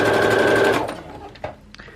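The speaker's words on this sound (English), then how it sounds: "So I'm going to start sewing this." A sewing machine stitches fabric in a steady, loud motor hum for about three quarters of a second, then runs down and stops, leaving a couple of faint clicks.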